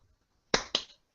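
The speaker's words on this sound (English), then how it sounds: "It claps its hands," A creature in the video game The Last Days of Anglekite claps its hands twice, two sharp, close claps about a fifth of a second apart in otherwise near silence.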